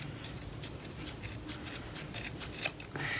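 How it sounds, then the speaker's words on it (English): Scissors snip through fabric along the seam of a no-sew scrunchie, a series of close, crisp cuts in an uneven rhythm, with no talking. "get your scissors and cut it at the edge right"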